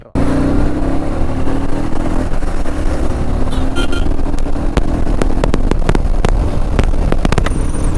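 Royal Enfield Meteor 350 motorcycle engine running steadily while riding on a road, a loud continuous drone with rising pitch as it accelerates, and light clicks and rattles near the end; no talk over it.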